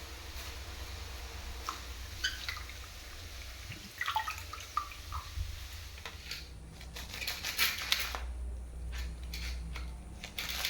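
Fresh moringa leaves being rinsed by hand in water in a home kitchen, with scattered splashes, drips and sloshing that grow busier and denser toward the end, close by and without talk.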